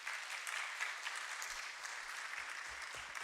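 A church congregation applauds during a Sunday service, steady and soft, sounding somewhat distant, with no talk over it.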